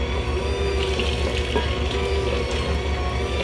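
Liquid poured steadily into a cake mixture for a Walking Dead Lucille-themed cake, a continuous close watery trickle and splash with no talk.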